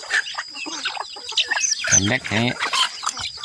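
Chickens on a rural home farm cluck in short bursts at close range, including orphaned chicks whose mother hen went missing, with someone talking over and between the calls.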